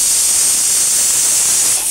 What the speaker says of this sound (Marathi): उकळलेलं पाणी ओतून घेणार.